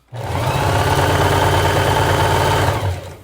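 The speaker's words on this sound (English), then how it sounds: "I'll sew it up a little." A sewing machine stitches fabric for a head wrap, its motor running in one steady, close, loud whirring burst of about three seconds, with no speech.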